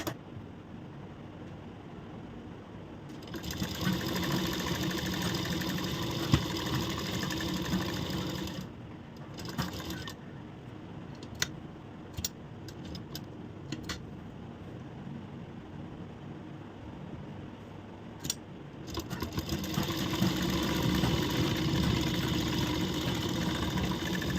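A sewing machine stitches a corset blouse in bursts, its motor whirring steadily for several seconds, pausing briefly, then running again in short and longer runs, close and fairly loud with no talk.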